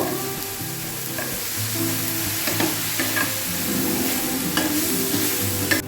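Cumin and coriander powder masala sautés in a pan with a close, steady sizzle, with frequent scraping strokes of a spatula and light knocks against the metal.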